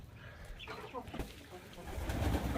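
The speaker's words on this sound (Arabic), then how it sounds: "انزلوا يا الحمام، انزلوا افطروا" Pigeons come down to feed, with soft cooing and bird calls over low rustling and wing movement, close by and fairly quiet.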